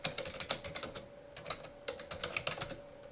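Rapid clicking of keys on a computer keyboard, typed in short uneven bursts with brief pauses, close and fairly quiet.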